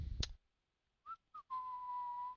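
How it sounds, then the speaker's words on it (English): Human whistling: after a short noise burst, two brief chirped notes and then one long steady held tone, close and fairly quiet, with no talking. "I just heard my own whistling through the microphone"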